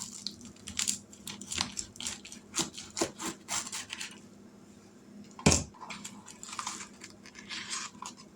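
A knife saws through a cube steak sandwich in a rapid series of short scraping, crunching strokes at close range, broken by one sharp louder knock partway through, with no talk.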